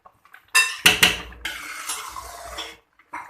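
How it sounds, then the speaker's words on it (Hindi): A metal spoon scrapes and clinks against a pot of gur-sweetened carrot kheer simmering on low heat, a few sharp knocks followed by a steady swishing stir, close and fairly loud with no talking. "बस इसी तरह आप इसके अंदर चमचा हिलाते रहें ताकि नीचे ना लगे"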